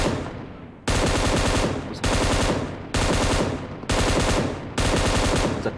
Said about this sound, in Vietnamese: M249 bây giờ nó giật lắm anh em ạ